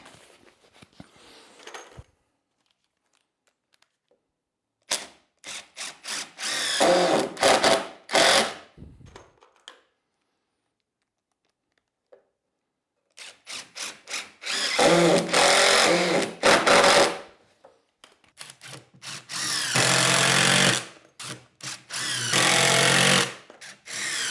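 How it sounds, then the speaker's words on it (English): A cordless drill drives cutter screws into timber for a raised planter box, in several loud, close bursts of whirring that start and stop, separated by quiet gaps. "So I can screw them all this way and that will be good enough."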